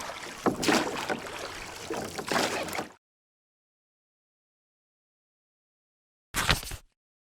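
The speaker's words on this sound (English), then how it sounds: "Toast wanted to row a boat from coast to coast." Water splashes and swishes under oars as a boat is rowed, in a busy three-second burst, then silence, then a brief final splash.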